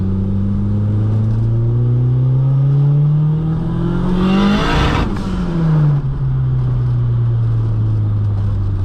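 A tuned Mk2 Golf GTS with a 16v engine and individual throttle bodies pulls hard in second gear, the engine note rising loud and close to a peak, then dropping as revs fall and settle into a steady drone.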